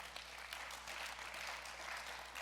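Audience applause during a conversation event with Bret Stephens and Frank Bruni, a broad, even wash of clapping from a crowd that holds steady and fairly soft throughout.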